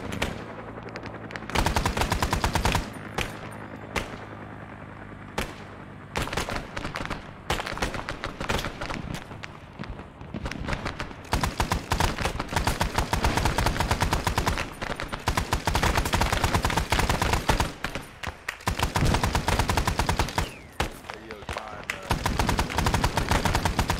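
High-explosive artillery rounds fire in a fill-the-box fire mission: dense, loud volleys of sharp blasts arrive in rapid clusters, with brief lulls between bursts over about twenty seconds.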